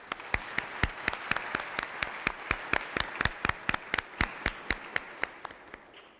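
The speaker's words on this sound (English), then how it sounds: "Could we give another round of applause for the amazing Esther Wojcicki?" Rhythmic round of applause from a conference keynote audience, sharp distinct claps repeating steadily and fairly close for several seconds, with no voices over them.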